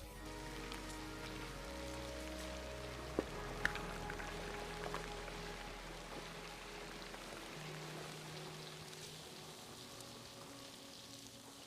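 Steady rain patters onto hard surfaces outside an abandoned Disney-style ghost town development in Turkey, a continuous close hiss with a couple of sharper drip knocks and no voices.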